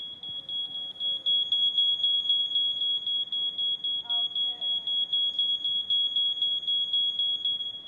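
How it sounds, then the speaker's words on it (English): A smoke alarm goes off in an arena during a hearing dogs display at Crufts 2012, a loud, rapid, continuous beeping that never pauses, with faint crowd noise underneath. "you'll see what happens when we set off the smoke alarm"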